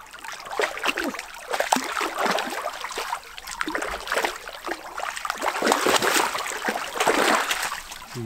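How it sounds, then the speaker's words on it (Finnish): Water of a small forest stream being crossed in autumn with a dog, sloshing and splashing in uneven bursts close by, with a steady trickling flow underneath. "Ja puron ylitys."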